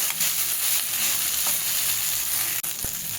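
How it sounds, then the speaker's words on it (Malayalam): Beaten rice (aval) is tossed in a hot pan, giving a steady close sizzle with soft stirring scrapes and one brief clatter near the end. "അപ്പം നമ്മുടെ അവലിനങ്ങ് തട്ടാട്ടോ നല്ലപോലെ മിക്സ് ചെയ്യണേ"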